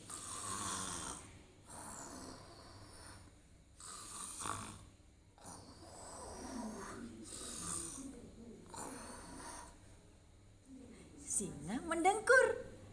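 A voice imitates a lion's loud snoring, with drawn-out rasping breaths repeated several times between pauses, ending in a burst of snorting noises.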